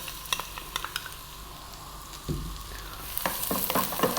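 Ginger, garlic and onion stir-frying in nutty oil over high heat, a bright close sizzle with sharp scraping knocks of a spatula, growing louder toward the end.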